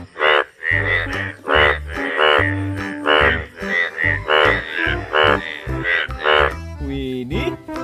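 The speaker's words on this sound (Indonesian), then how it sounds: "Wow, yang ini hewan kodok." Repeated frog croaks from the video game Jurassic World Evolution 2 in a quick, rhythmic series, loud and close, with a slightly synthetic, game-like tone.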